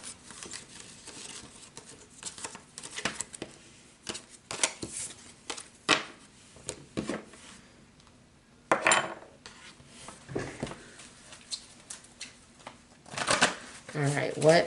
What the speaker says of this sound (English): let's pull some energy cards